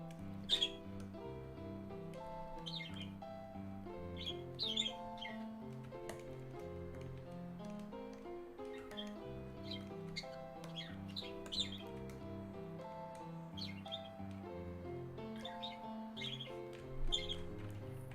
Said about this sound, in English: Yep, I have birds.